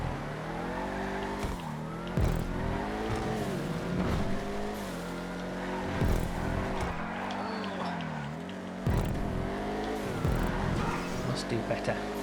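Vigero and Vigero ZX muscle cars racing in GTA 5, loud engines revving up and down in repeated rising and falling sweeps as gears shift, with tire noise, close and continuous.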